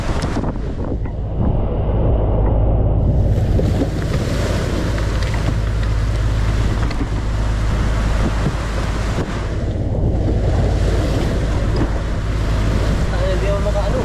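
Rough sea waves around a small boat, a loud continuous roar of water and wind buffeting with rumbling low end, voices faintly mixed in.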